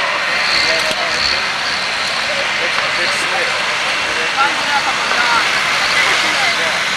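A loud, continuous pro stock pulling tractor engine roars from a distance at an NTPA Grand National tractor pull, steady and droning, with a crowd-like wash of noise and no clear talking.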